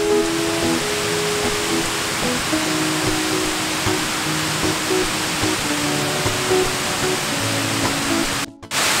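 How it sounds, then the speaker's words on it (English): Steady broadband roar of Wigmores Waterfall in Titikaveka, Rarotonga, Cook Islands, heard close and constant throughout, with a brief drop near the end. "So we're currently at Wigmores Waterfall, located in Titikaveka"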